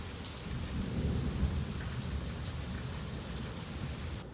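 A heavy morning storm outside, with steady dense rain hissing on surfaces and low thunder rumbling throughout. The roar is constant and fairly loud, with no voices and no distinct hail impacts standing out.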